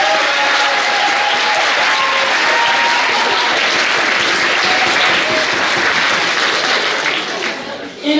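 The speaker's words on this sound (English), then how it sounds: "on aimerait aussi que vous applaudissiez, que vous remerciez d'ores et déjà notre jury, donc Maître Sébastien D'Artois" Audience applause at a December 2019 award ceremony, a dense, steady clapping from a large crowd filling the room at full loudness, thinning slightly near the end, with a few voices faintly audible underneath.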